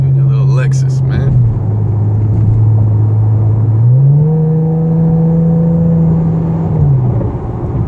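A 2013 Camaro with aftermarket exhaust rumbles nearby, its engine note dipping and then climbing into a steady higher rev before settling back, a continuous droning growl; a brief bit of talk appears at the start.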